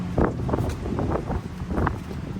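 Wind buffets the microphone in gusty, rumbling bursts, loud and close, with faint rustling underneath.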